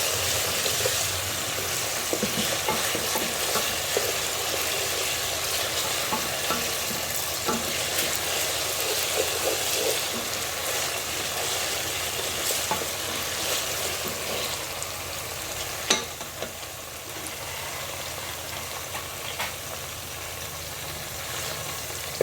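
Nigerian vegetable soup (efo riro) is stirred in a pot over a steady frying sizzle that runs throughout. It brings soft scraping and one brief louder knock near the end, with no voices.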